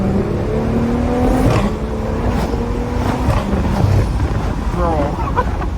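A BMW F30 335i fitted with a CTS Turbo cold air intake revs hard from inside the cabin during a night drive, its engine note climbing repeatedly through shifts, loud and continuous, with someone talking over it.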